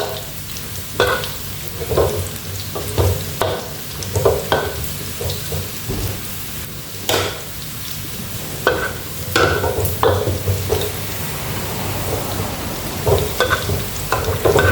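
Steady crackling sizzle of sun-dried pork frying in hot oil, with occasional sharp pops and stirring scrapes, close and continuous.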